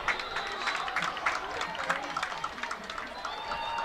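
Rowdy crowd noise at a high school varsity football game between Wilmington and Bishop Fenwick, a steady roar of cheering, clapping and chatter in the stands, loud and continuous throughout.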